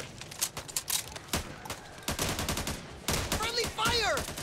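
Rapid gunfire in the co-op zombie shooter Back 4 Blood, dense bursts of automatic shots and chaotic effects, with players talking excitedly over the shooting.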